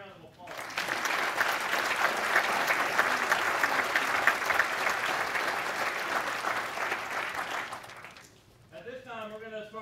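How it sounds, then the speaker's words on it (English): An audience at a school district board meeting claps in sustained, even applause for several seconds, fading out as a voice begins speaking. "So let's give them a round of applause."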